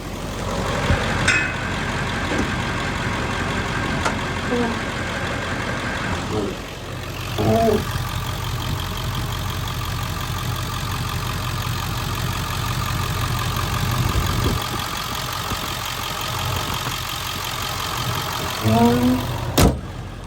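A 2000 Ford Excursion's 7.3L Powerstroke diesel engine idles with a steady low rumble throughout, heard from under the hood, with a few faint clicks and squeaks and brief voice-like sounds over the drone.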